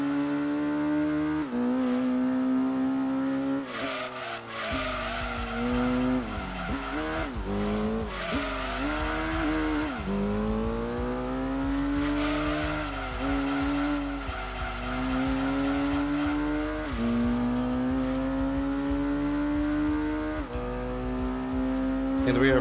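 A race car in Gran Turismo 2 on PS1 howls through a lap, the engine note climbing and dropping through gear shifts, with tire squeal in the corners, loud and continuous throughout.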